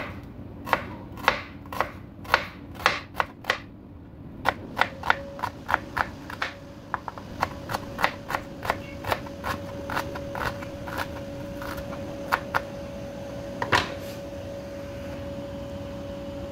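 An onion is chopped with a knife for grilled stuffed milkfish (relyenong bangus): a steady run of crisp, close knife strokes on a board, quicker in the middle, over a faint steady hum, with no talking.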